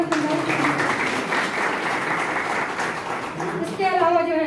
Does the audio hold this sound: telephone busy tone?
no